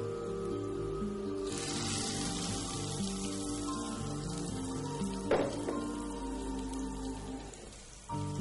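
Hot oil tempering for coconut mint chutney gives a steady, dense sizzle and crackle that runs throughout, with a brief louder spatter near the middle and no voices.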